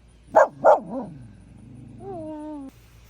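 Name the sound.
dog barking at another dog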